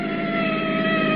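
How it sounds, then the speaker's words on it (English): Siren sound effect in a radio drama, a steady wailing tone heard alone for a brief moment, fairly loud and unbroken. "Sounds like a siren"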